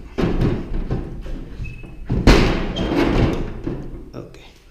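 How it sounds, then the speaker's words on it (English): A glass balcony door in a sunny two-bedroom apartment swings shut with a solid thud near the middle, surrounded by handling knocks and room noise while a person talks throughout. "You have to close the doors this way."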